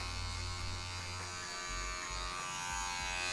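Electric hair clipper fitted with a number 1 guard, working the centre of a fade haircut; a steady, close buzz with a pulsing low hum runs throughout, with no talking.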